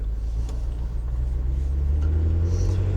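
Steady low engine and road rumble from a 2025 Land Rover Defender OCTA cruising on a paved road, heard from inside the cabin as a continuous, fairly loud drone with no speech.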